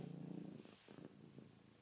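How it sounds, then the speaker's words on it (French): A cat purrs softly and steadily at close range, a faint rhythmic rumble with small bumps as it rubs against an arm, no voices. "Et elle ronronne."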